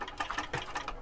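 Sewing machine back stitching a seam on a clutch bag, a quiet brief burst of rapid rhythmic needle stitching with mechanical clicks, heard alone.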